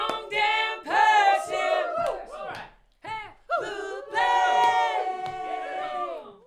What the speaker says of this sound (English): a collection of tracks of group vocals that add an interesting space and character to the song